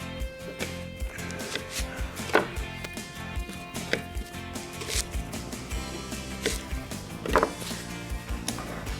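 A knife chops through a leek on a cutting board, trimming off the ends. Sharp thwacks land irregularly, some louder and some softer, over faint kitchen background noise, with no speech.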